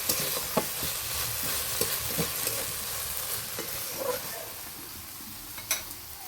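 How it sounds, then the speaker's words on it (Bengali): Meat sautéed in a pan with a lid, a continuous close sizzle with occasional stirring knocks and scrapes spread across the stretch, no voices. "10 মিনিট ধরে খুব সুন্দর করে ঢাকনা দিয়ে আমি মাংসটাকে কষে নিই"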